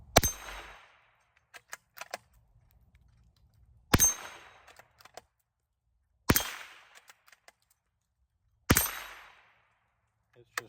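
Four sharp shots from a CZ 452 American .22 LR bolt action rifle ring out a few seconds apart, each loud crack followed by a brief ringing tail and small bolt-handling clicks between.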